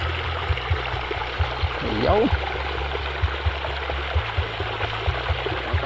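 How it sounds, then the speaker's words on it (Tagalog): A strong flow of water runs steadily through a pechay vegetable plot, a continuous broadband rush that lasts the whole time while people talk over it nearby. "Malakas po yung tubig."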